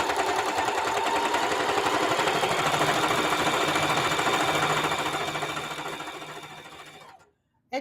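A sewing machine runs steadily, stitching embroidery onto a vintage apron in a close, continuous mechanical whir with a dense rapid rhythm, then slows and stops near the end.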